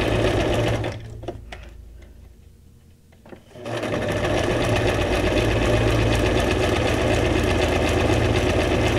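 A sewing machine stitches paper junk journal pieces, running in a fast steady whir that stops briefly for a couple of seconds and then resumes continuously, close and fairly loud.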